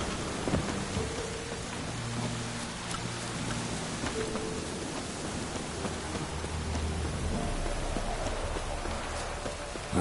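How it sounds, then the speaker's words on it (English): Steady rain pours in The Witcher 3 while thunder rumbles low and distant underneath, a continuous stormy wash with no voices. "Looks like rain."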